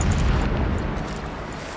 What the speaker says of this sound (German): Entfernte Explosion.